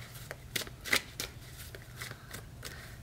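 Tarot cards drawn from a deck and laid out, a few soft brushing flicks and card slaps in uneven succession, close but quiet.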